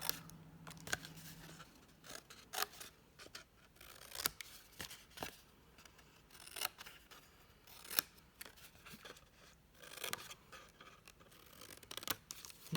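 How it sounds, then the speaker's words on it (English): Scissors snip flaps into cinnamon cider cardstock, a series of short, crisp cuts with brief pauses between them, close and fairly quiet, with no talking. "So the first thing I'm going to do is I'm going to cut my flaps."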